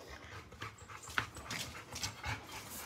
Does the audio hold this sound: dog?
yes